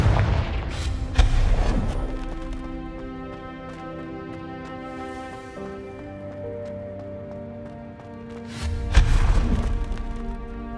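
A Confringo blasting spell explodes in Hogwarts Legacy, producing a loud booming burst with a rumbling tail. A second big blast follows near the end, over a steady musical game score.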